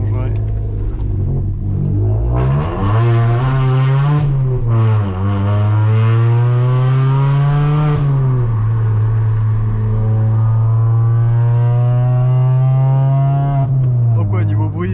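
A Suzuki Swift Sport 1.6 (136 hp) with a full aftermarket exhaust revs hard and close, its engine note sweeping up and down in several strong pulls before settling into a loud, steady drone.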